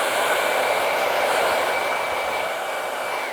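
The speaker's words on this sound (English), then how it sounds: "I'm going to start blow drying them" A hair dryer blows hair during a scissor haircut, a loud steady whooshing roar with a faint whine, running close and unbroken with no talking.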